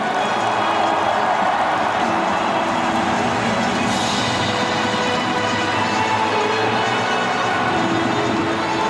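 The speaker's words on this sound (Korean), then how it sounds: "관중 여러분, 두 레전드에게 뜨거운 박수를 부탁드립니다." A dense, continuous roar of a stadium crowd applauding South Korean football legends Cha Bum-kun and Son Heung-min at a ceremony marking a national-team appearance record; the broad wash of clapping and cheering holds steady and loud throughout, with no clear voices standing out.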